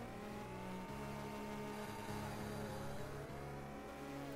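A car drives along a road in a video game, a steady mid-pitched engine drone with faint revving changes, continuous and close, no talk.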